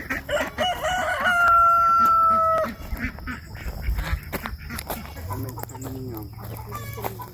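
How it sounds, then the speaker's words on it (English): A Dominique mix rooster crows loudly nearby in a backyard coop, a long drawn-out call, followed by softer clucks and scattered fowl noises with brief movement and a low vocal tone later. "I want to say it's a Dominique / Wool Summer mix, but this is a rooster, I think."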